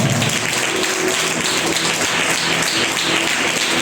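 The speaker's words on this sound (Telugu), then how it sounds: "Let's clap and give glory to" A church congregation clapping hands together in praise during fasting prayers, a dense, loud, rhythmic patter of many hands.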